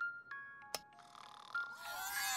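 Snoring from a sleeping man, a few short rasping breaths followed by a longer rough drawn-out snore, fairly faint and close, with a brief chime-like tone early on.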